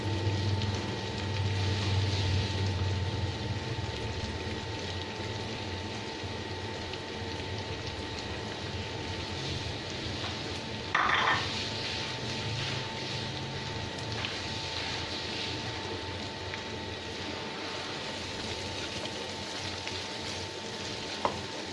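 Sliced jicama and dried shrimp are stir-fried in a pan, giving a steady close sizzle with a brief clatter of stirring partway through, and no talking.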